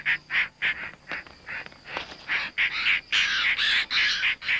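Gray hornbill calling in humid foothills: a series of repeated squawking notes, evenly paced at first, then running together into louder, denser calls, fairly close and with no other sounds.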